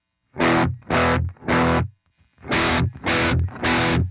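Distorted electric guitar chords played in three stabs, a short pause, then three more, thick and gritty with heavy overdrive, loud and close.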